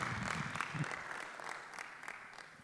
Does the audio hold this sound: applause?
yes